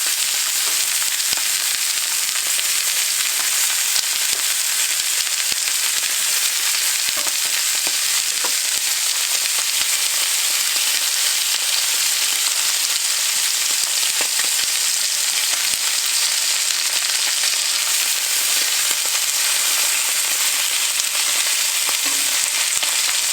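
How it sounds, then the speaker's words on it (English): Steak frying in butter in a cast iron pan, a dense, continuous loud sizzle with hissing and crackling that holds steady throughout. "Throw some butter on there."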